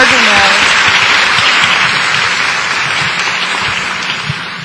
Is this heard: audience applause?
yes